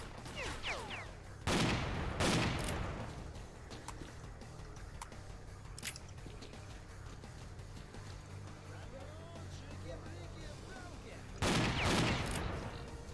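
Gunfire in the shooter game Stalker, two loud bursts of rapid shots several seconds apart over a noisy background with distant crackling and faint talk.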